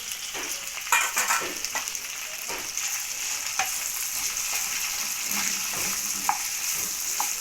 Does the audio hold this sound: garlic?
yes